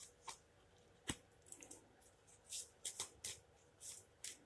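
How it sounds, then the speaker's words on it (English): A deck of cards being cut and handled up close: a sharp tap followed by a run of soft papery riffles and slaps, quiet with no voices. "A quick cut."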